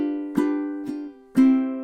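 Ukulele plucked in a short song phrase: three bright picked notes or chords, close and clear, each ringing out before the next, the last one sustained.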